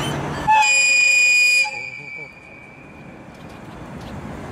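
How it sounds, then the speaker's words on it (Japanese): A train horn sounds one loud sustained blast that cuts off, followed by faint rumbling of the approaching train at Sakume Station in Japan. "列車が来ました"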